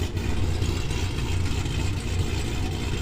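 Race car with an aggressive cam idling at a street drag event, a steady, loping low rumble held close and continuous with a choppy, uneven pulse.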